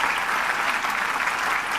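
Steady applause from an audience at a smart IPTV app launch event, a dense, even wash of many hands clapping, close and loud throughout.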